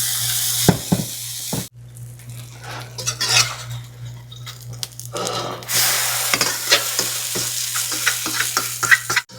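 Pancakes fry in oil in a skillet with a steady sizzle under clinks and scrapes of a utensil against the pan. A low hum runs beneath, and no one talks.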